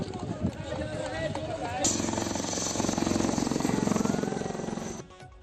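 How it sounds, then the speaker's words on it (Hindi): Indian Air Force helicopters showering flowers over a hospital thump overhead, the rotor chop swelling louder midway and holding before fading, while a voice talks over the start. "यहां भी वायुसेना के हेलीकॉप्टर्स ने की पुष्प वर्षा"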